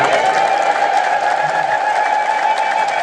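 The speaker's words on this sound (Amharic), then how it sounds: "እንደው እልል በሉለት።" A gathered crowd of worshippers ululates in celebration for a blessed priest, a sustained, dense high trilling from many voices that stays loud and steady throughout.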